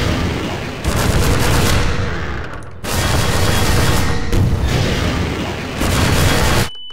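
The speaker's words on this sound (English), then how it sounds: "Lots of rockets." Rocket explosions in the video game Half-Life 2 Episode 1: three long, loud, roaring blasts that each swell and hang for about two seconds, separated by brief quiet gaps.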